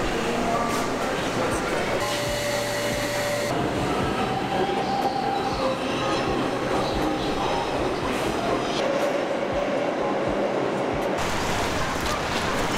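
Rumbling New York City subway train ride with rattling wheels, occasional metallic squeals and steady clatter, heard from inside the car along with faint background voices.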